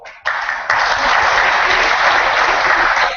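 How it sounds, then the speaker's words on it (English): Audience applause at a corporate HR leadership event, loud and sustained clapping from a crowd that swells after a brief start and continues steadily throughout. "Big applause."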